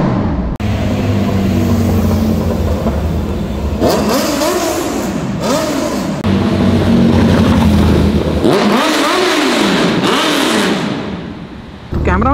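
Suzuki Katana motorcycle engine revved repeatedly under a metro overpass, several loud sharp blips and sweeps over a steady idle, echoing, with talking mixed in.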